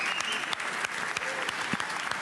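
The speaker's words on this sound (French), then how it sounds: "Un tonnerre d'applaudissements pour lui." Audience applause at an award ceremony honoring footballer Lamine Yamal, a steady dense clapping throughout with a few sharper claps standing out, fairly distant and moderately loud.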